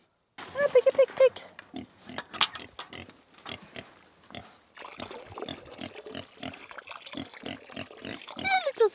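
Pigs grunting and oinking at close range in a series of short bursts, with a person talking to them in between, at a medieval château menagerie.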